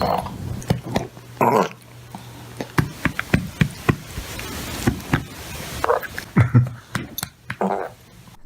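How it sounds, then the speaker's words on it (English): A dog that has just finished a meal gets burped by its owner: a run of soft, irregular pats with a few short throaty bursts mixed in, all close up. "this dog runs over to its owner to get burped"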